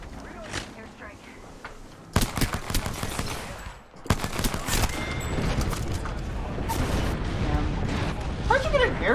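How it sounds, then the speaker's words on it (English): Airstrike explosions and rapid gunfire erupt in Apex Legends, with loud bursting blasts and sustained rattling fire after a brief quieter lead-in, while players talk over the barrage. "How'd you get an airstrike so fast?"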